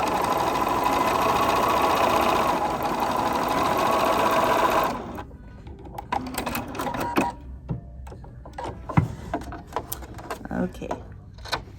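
A sewing machine stitches a row of a quilt block with a loud, steady, close whirring hum for about five seconds, then stops, followed by scattered clicks and fabric handling.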